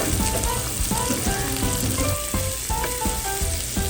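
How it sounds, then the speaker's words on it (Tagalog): Organic chicken meat sautéing in a pan, a steady loud sizzle and crackle running throughout with scattered clinks of utensils stirring, no voices. "Dito po ay ginigisa namin ang mga meat."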